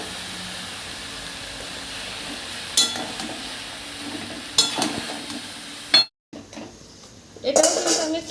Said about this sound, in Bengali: এদিকে কিন্তু শাকটা আমি একটু খুলে নেড়ে নিচ্ছিলাম